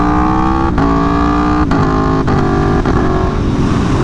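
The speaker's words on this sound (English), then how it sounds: "I did not want to hear that glorious V4" Aprilia Tuono V4 1100 Factory motorcycle with a V4 engine, droning loud and close at steady revs, with a few brief dips as gears change while riding.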